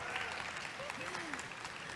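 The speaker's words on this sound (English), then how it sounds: "Can we give a round of applause for Mardhiah?" Audience applause for a panelist being introduced at a women's business panel event, a steady dense clapping wash that holds for the whole stretch with faint voices and a tonal murmur underneath.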